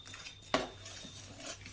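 A quiet spoon clinks once against a bowl, followed by soft scraping sounds of stirring homemade detergent ingredients.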